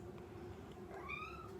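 A nine-week-old kitten meows once, a rising, thin cry standing out clearly against a steady low background hum indoors, no talking.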